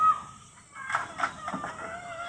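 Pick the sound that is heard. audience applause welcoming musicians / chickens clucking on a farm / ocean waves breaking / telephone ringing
chickens clucking on a farm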